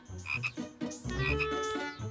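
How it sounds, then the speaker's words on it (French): Cartoon frogs, including a baby frog, croak in a quick series of loud, close, resonant calls, with no talking alongside. "Un bébé grenouille."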